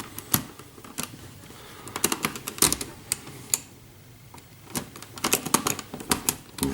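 A plastic MP-15 Rumble transforming robot figure is pried open by hand, giving a run of sharp, close clicks and snaps with short pauses between bursts, with no voices.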